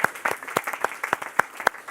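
Audience applause in a French business presentation, a steady patter of many hands clapping with sharp individual claps standing out, close and fairly loud throughout.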